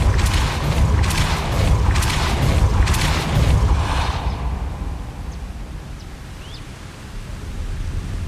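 Depulso spell cast in Hogwarts Legacy: a broad rushing, booming blast with a few rapid pulses, fading into a softer lingering hiss.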